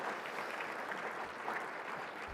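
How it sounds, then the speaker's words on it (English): A conference audience at a sustainability summit keynote gives a round of applause, even and continuous clapping heard at moderate distance with no talk over it. "Let's give ourselves a round of applause for engaging in this exercise."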